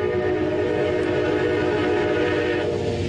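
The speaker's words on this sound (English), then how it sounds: "From the time you hear this horn to the moment you catch the sight of this train, a life could be gone in an instant." A train horn blows continuously and loudly over the rumble of the passing train, one long sustained blast with no voices.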